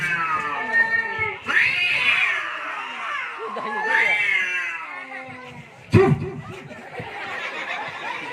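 Cats meow repeatedly in drawn-out, wavering cries, close by, with a sharp knock or thud partway through and rustling background noise.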